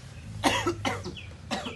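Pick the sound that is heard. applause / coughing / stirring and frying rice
coughing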